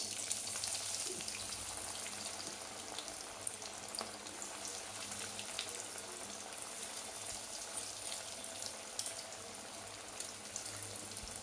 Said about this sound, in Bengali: কম আঁচে লাল লাল করে ভেজে নেব